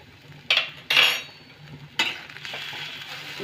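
Paneer momo filling with salt and ground black pepper stirred in a pan over a low flame, a utensil scraping and clinking against the metal in a few distinct bursts, close and clear with no voices.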